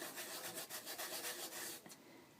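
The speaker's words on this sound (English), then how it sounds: "I'm discovering that the sandpaper is great for this" Cork being sanded by hand with 100 grit sandpaper, a steady close scratchy rubbing made of quick back-and-forth strokes that run continuously for about two seconds, then stop with a last brief scrape.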